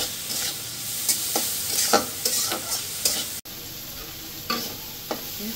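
Fish sizzles and crackles in hot oil in a pan, seasoned with salt and a little turmeric, with repeated scraping stirs and clinks of the utensil. The cooking is close and steady, with no talk.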